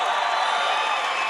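A packed political rally crowd in a Nashville, Tennessee arena cheers and roars, a loud, dense, continuous wash of voices and whoops with no break, close and enveloping.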